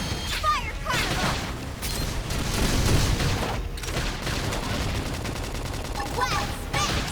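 The Fire Carnival attack in Xenoblade Chronicles X: Definitive Edition bursts out as a sustained barrage of rapid booming blasts and mechanical clatter, loud and continuous, with game voices and music underneath.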